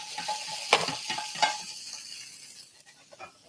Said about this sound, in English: We'll get some chili just to sizzle a little bit in the residual heat.